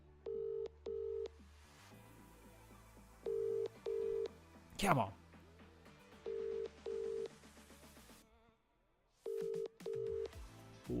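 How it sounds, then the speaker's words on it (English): A phone call rings out in repeated double beeps, evenly spaced pairs of tones at low volume, with a brief rustle in the middle and a voice muttering once. "It's ringing, so it's somebody's number."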